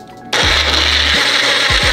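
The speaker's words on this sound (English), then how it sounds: "Usually we don't do frozen strawberries because this bullet isn't, this blender isn't strong enough" A small bullet-style blender grinds frozen strawberries and banana, its motor roaring loud and close in short bursts that cut in and out, straining against the frozen fruit.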